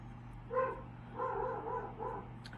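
A dog barks faintly in a few short bursts in the distance, over a constant low electrical hum.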